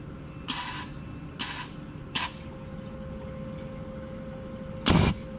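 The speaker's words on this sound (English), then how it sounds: "Laser will be out and the gas will be out at the same time." A laser welding machine firing with argon gas, several short sharp hissing bursts, three spaced early and a louder, longer one near the end, close over a steady low hum.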